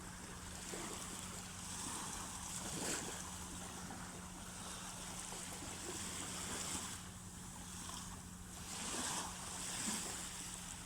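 Sea waves on a beach along the SSK shore wash in and out at a distance, a soft steady surf hiss with gentle swells roughly every few seconds, carried under light wind and a low constant hum.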